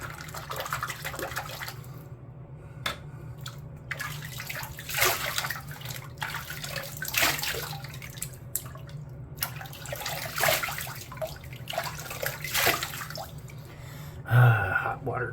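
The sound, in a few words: hot water running for a wet shave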